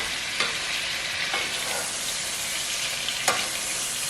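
Salmon sears in a hot pan while being basted, giving a dense continuous sizzle with a few soft scrapes and clinks, close and loud, with no voices.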